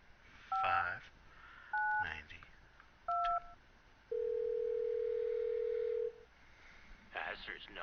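Keypad tones dialing Ray's phone in the adventure game Thimbleweed Park: three short separate beeps, then one long steady tone lasting about two seconds, close and clear, followed by a brief burst of voice.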